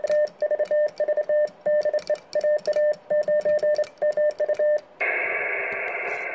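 Rapid Morse code clicks and beeping tones in quick dot-dash bursts from a fast Vibroplex bug key slowed with two small weights, then a steady hiss of static takes over near the end.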